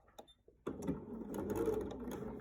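A sewing machine backstitches along a quilt border, a few soft clicks and thumps, then a fast steady mechanical whir that runs on to the end.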